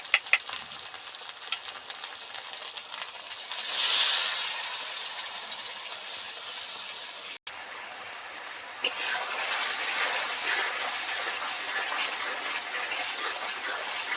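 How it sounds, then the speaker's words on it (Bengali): Spice masala fries in oil that has separated and is bubbling on top, a steady close sizzle and hiss with a brief louder swell and a sharp click partway through, no voices. "মশলা থেকে তেল ছেড়ে গেছে তেলটা উপরে বুজবুজ বুজবুজ করছে"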